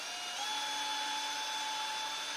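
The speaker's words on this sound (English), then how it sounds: "With the drill, you are then going to spin the cone" An electric drill spins a polishing cone against plastic computer mouse parts, giving a steady, close, high-pitched whine with a stable tone that holds unbroken throughout.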